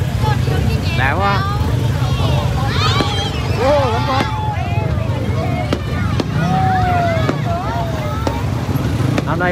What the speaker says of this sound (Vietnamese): hiện giờ vẫn còn bắn pháo hoa này